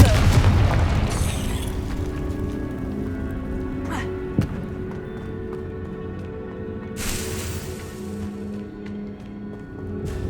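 A Confringo blasting spell goes off in Hogwarts Legacy, with a booming burst at the start, a sharp crack midway and another broad blast later, all over a steady rumbling game backdrop.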